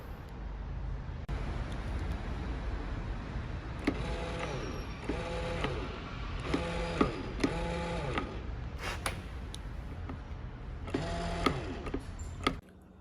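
Failing trunk lock actuator on a Mercedes-Benz CLK, whirring and clicking in repeated short buzzing bursts with ratcheting ticks, close and fairly quiet over a steady background hum, no voices.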